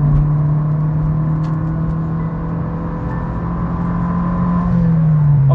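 Car with custom suspension accelerating hard, a loud steady engine drone with rising pitch near the end, heard from inside the cabin.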